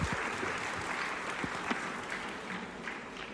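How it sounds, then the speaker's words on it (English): Audience applause welcoming a panel moderator at a fintech leaders' summit in Accra, steady dense clapping from a large crowd filling the whole stretch, with a few sharper claps standing out. "Please make her welcome with a round of applause."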